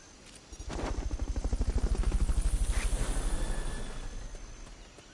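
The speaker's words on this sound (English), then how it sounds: "Fulton recovery subject confirmed onboard helicopter." A helicopter in the video game Metal Gear Solid: Peace Walker rises into a loud, rapid rotor chop that swells and then gradually fades, heard alone.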